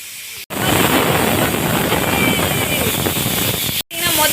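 A pressure cooker lets off a loud, steady hissing whistle of escaping steam for a few seconds while cooking appalam kootu on a gas stove, cut off abruptly at both ends.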